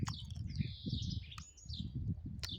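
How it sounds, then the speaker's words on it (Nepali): Birds chirp and tweet in a natural outdoor spot on a sunny morning, with bright high calls recurring over a steady low rumble of background noise, moderately distant and fairly faint. "पुरा नेचुरल ठाउँ छ क्या यहाँ चरा चुरुङ्गीको आवाज"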